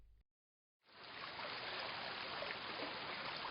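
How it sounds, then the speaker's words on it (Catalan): Water flowing along a riverbank in a Valencian natural area, a steady broadband rush that starts after a short pause and continues evenly and fairly close. "El so de l'aigua a la vora del riu."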